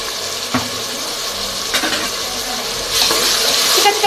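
Onion frying with cinnamon, cloves and masala while being stirred: a close, continuous sizzle and hiss with a few utensil knocks, growing brighter and louder near the end.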